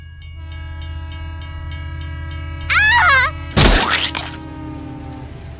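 A train in the Sonic Adventure DX video game sounds a loud horn blast over steady rumbling, followed by a burst of crashing and breaking noise.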